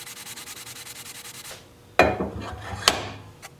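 A wooden four-legged square bowl being buffed on a lathe gives a steady rhythmic rubbing texture, then sharper scraping bursts with a couple of brief knocks, close and moderately loud, with no voices.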